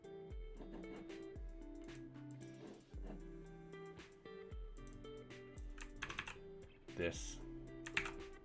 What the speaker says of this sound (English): what I want to do is I want to type in